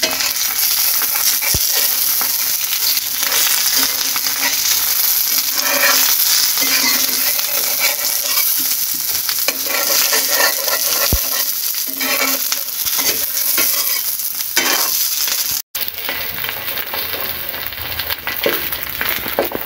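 An egg fries in a little oil in a pan, a steady bright crackling sizzle that runs unbroken and close, with a couple of faint clicks and a brief dropout near the end.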